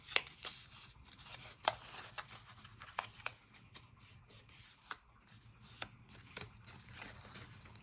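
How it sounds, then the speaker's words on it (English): Paper being folded along scored lines for a mini album made with a die set, giving soft close rustles and crisp crease crackles at an irregular pace, with no talking. "you're going to fold the paper away from you"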